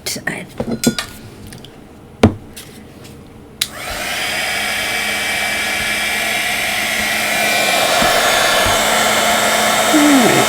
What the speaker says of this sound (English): let's go ahead and heat emboss